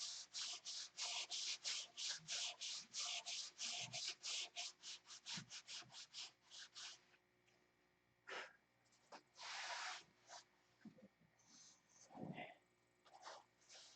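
Rapid back-and-forth strokes of 36 grit abrasive sanding a surface, steady rhythmic rasping for about seven seconds, then sparser bursts of sanding with pauses and small handling noises.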